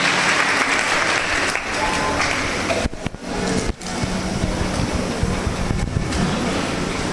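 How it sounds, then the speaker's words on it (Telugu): A church congregation claps loudly and continuously in a thick wash of applause, with only a couple of brief dips in intensity. "దేవుడు చేసిన కార్యాన్ని బట్టి గట్టిగా చప్పట్లు కొట్టి గట్టి కొట్టాలి"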